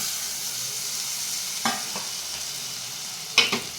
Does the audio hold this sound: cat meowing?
no